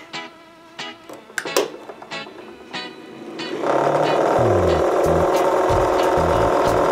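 A cotton candy machine for spinning sugar, starting with a few clicks and knocks, then switching on into a loud, steady mechanical whir that continues to the end.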